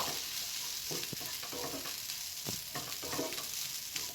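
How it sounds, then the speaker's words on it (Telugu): Grated fresh coconut fries in a pan as a sweet dumpling stuffing, giving a soft continuous sizzle with repeated scraping stirs of a spoon, close and quiet, with no talking. "కొబ్బరి వేసిన తర్వాత ఒక రెండు నిమిషాలు అయితే వేయించుకున్నానండి"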